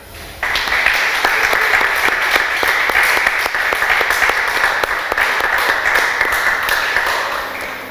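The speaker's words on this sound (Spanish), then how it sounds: "Un aplauso al Señor." A church congregation breaks into loud, sustained applause that starts abruptly and carries on steadily, with many hands clapping at once.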